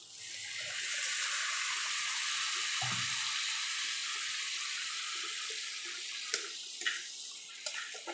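Water pours into a pan of hot masala potato curry, setting off a sustained bright hiss and sizzle that holds for several seconds before settling into softer bubbling with a few pops, close and alone.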